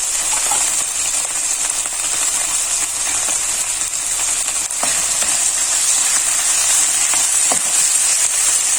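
Ground meat sizzles and fries steadily in a pan for spaghetti sauce, a dense continuous crackle with a few small clinks and stirring knocks, close and alone with no talking.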